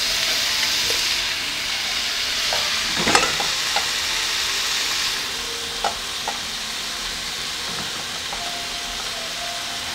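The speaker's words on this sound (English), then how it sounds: "Anytime I fry salmon, I flip them over a few times, so they cook evenly" Salmon fillets frying in a pan, a steady broadband sizzle with occasional sharp pops and spatters as the fish is turned, close and continuous with no talking.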